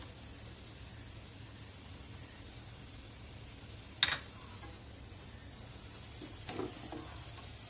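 Mutton keema frying in a pan with ginger garlic paste: a faint, even sizzle throughout, with one sharp clatter near the middle and a softer scrape later.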